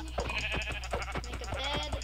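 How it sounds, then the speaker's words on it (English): Minecraft sheep bleat repeatedly, close and clear, with a steady low game hum underneath. "Oh, look at that. Sheep right here."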